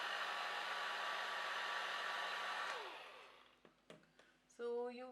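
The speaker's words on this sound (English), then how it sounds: "just take your dryer around it in circle like this" A hair dryer blowing over alcohol ink gives a steady, close, loud whoosh for under three seconds, then winds down and falls quiet with a few small knocks before a short tonal burst at the end.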